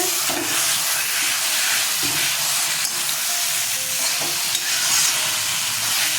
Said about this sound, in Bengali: দেখুন এখন কড়াইতে লেগে ধরছে